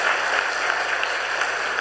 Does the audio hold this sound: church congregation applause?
yes